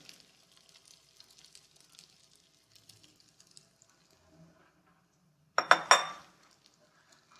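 An omelet egg slides into a hot pan with a short burst of sizzling and clinking, loud and close, after quiet faint clatter.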